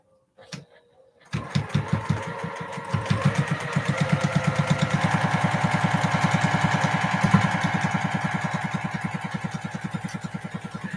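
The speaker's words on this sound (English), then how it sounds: "I line up that seam with the needle in the machine" A sewing machine runs steadily while stitching a quilt block, its motor whirring with a fast rhythmic needle chatter that holds close and loud for nearly the whole stretch after a brief quiet start.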